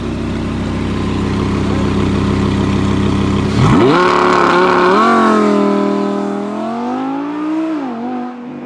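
An Audi R8 V10 engine idles with a low rumble, then revs up sharply and roars through rising gear changes as the car speeds away, fading slightly.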